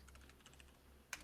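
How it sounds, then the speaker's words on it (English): A brief, faint burst of typing on a computer keyboard, a quick run of soft key taps ending in one sharper, louder click. "My typing's gone today"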